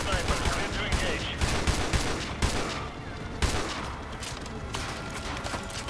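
Sniper rifle fire and battle gunfire in the Call of Duty MW2 Campaign Remastered video game, with repeated sharp shots over a constant din of combat and faint speech.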